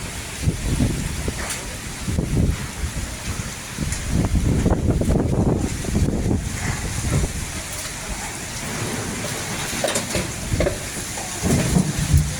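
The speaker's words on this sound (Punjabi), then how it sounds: "ਬਹੁਤ ਤੇਜ਼ ਹਨੇਰੀ ਜਿਹੜੀ ਹੋ ਗਈ ਆ" Strong wind roars in heavy broadband gusts with heavy rain and hail noise, rising and falling across the whole stretch, loud and close, in a village in Gurdaspur, Punjab.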